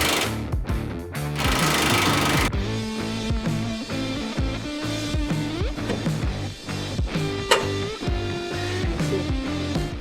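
Power tool, likely an impact wrench, working a 22mm rear control arm bolt on a car during a coilover upgrade: loud rapid hammering bursts, then repeated rhythmic impacts and rattling, close by with no talk.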